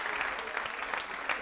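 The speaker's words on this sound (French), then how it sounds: "faites un maximum d'applaudissements, s'il vous plaît." A comedy club audience in Kigali claps in a dense, steady burst of applause, close and even for a moment.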